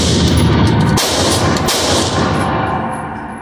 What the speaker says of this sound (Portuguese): Vou efetuar mais 3 disparos ali embaixo, ó. É uma distância muito curta com o fuzil.